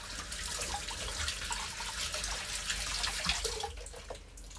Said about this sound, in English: rinse out the pak choy.